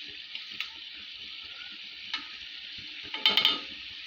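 Fish and bottle gourd frying in a pan, with a soft steady sizzle, occasional light knocks from stirring, and a short cluster of louder clatters near the end.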